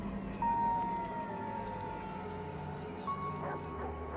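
A siren from an emergency vehicle, apparently an ambulance, wails in steady tones over a busy background of engine rumble and street noise, moderately loud throughout.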